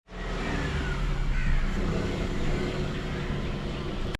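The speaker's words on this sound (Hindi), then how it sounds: "आमिर भाई गाड़ी लेके जा रहे हैं रहीम यार खान" A car pulls away on a morning departure, its engine noise broad and steady at close range throughout before cutting off abruptly at the end, with no talking.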